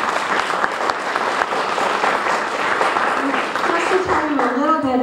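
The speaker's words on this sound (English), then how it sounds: "Let's give them all a round of applause." An audience at a mayor's book launch event in West Palm Beach breaks into sustained, dense applause that carries on for several seconds, with a voice rising over the clapping near the end.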